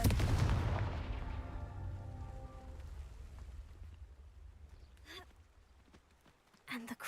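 A Confringo blasting spell cast in Hogwarts Legacy, one loud booming impact that decays into a long rumbling tail, followed later by a few short sharp magical bursts, with a voice calling out the spell.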